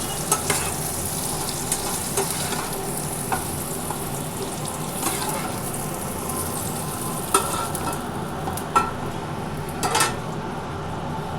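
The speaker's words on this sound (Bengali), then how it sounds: "কপিটা আমার ভাজা হয়ে গেছে এবার আমি কপিটা আলুটার কপিটা আমি কিন্তু ঢেলে দেবো এবার" Fried cauliflower and potato sizzle steadily in a pan, with scraping stirs and several sharp utensil clinks against the pan toward the end, close up and without talk.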